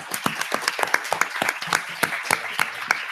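Audience applause for the guests of a youth-empowerment panel, heard as scattered, distinct individual claps in an irregular rhythm, moderately near and not very dense, with no voices over it.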